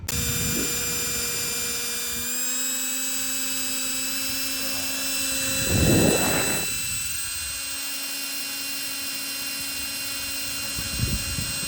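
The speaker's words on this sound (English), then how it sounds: "drill some holes and get it mounted" An electric drill whirs continuously with a steady high-pitched whine, close up, drilling mounting holes, briefly surging louder partway through.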